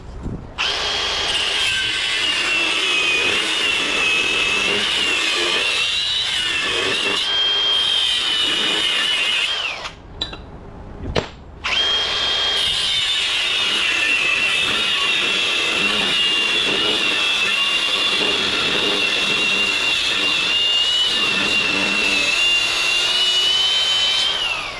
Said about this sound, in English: My cutoff wheel's getting small, so I'm gonna change it because I gotta reach up in there